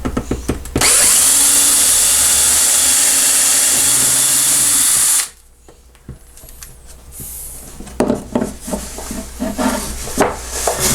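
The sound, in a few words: power drill drilling through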